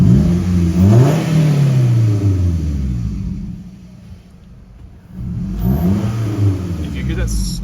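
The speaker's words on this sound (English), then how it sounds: "let's give you guys a sound clip of the exhaust." A 2006 Scion tC engine with a bad PCV valve revs and rumbles through the exhaust, surging, easing off, then rising again, with a deep steady roar close by.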